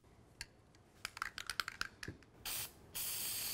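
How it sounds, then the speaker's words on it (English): A few rapid clicks and rattles of a rust-protection lubricant aerosol can, then two bursts of aerosol spray hiss, the second one longer and sustained. "we'll show you how to use our new aerosol spray can"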